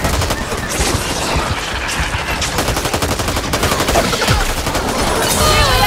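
Rapid, continuous gunfire in the video game Back 4 Blood rattles loud and close, a steady machine-gun-like fusillade with no real pauses.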